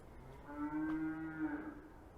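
Recorded cattle mooing played at a railway museum exhibit of a 1951 British Railways cattle van; one drawn-out low moo, faint and heard alone.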